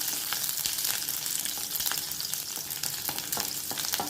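About twenty whole garlic cloves fry in hot oil for a thokku side dish, a close, continuous bright sizzle with crackling pops and occasional stirring scrapes, no voices.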